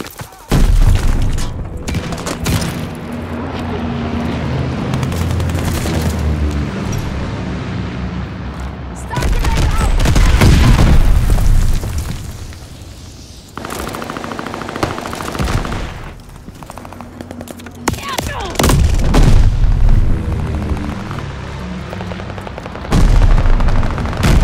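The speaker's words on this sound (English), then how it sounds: "Teammate called a bombing run." Bombing-run explosions and gunfire in Call of Duty Vanguard Patrol mode on the Casablanca map: heavy booms and rattling bursts fill the scene loudly and almost continuously, with in-game voice callouts over the battle.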